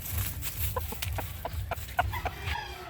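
A young rooster, a stag, clucks in a series of short, clipped calls over a steady low background hum, fairly close and with no talk.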